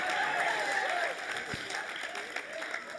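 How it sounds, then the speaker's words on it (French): A television game-show studio audience applauds, a full, continuous burst of clapping from a crowd, with voices speaking and reacting on top of it. "Applaudissez pas!"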